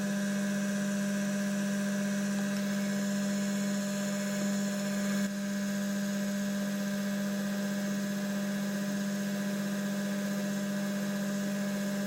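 Drilling a 3.5mm hole with a spot-drilled start on a machine tool holding collets, for an adjustable wedge parallel: a steady, continuous high machine whine with a constant hum runs unbroken and fairly loud throughout, with no voices.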